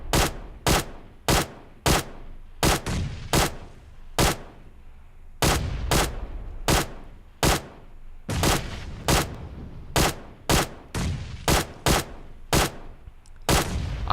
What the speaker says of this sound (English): This gun is pretty freaking cool on single fire as well